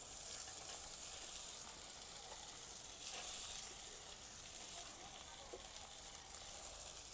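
Chopped onion, ginger and garlic sizzle steadily as they fry in butter, a continuous close crackling hiss with soft stirring scrapes for a vegetable momo filling.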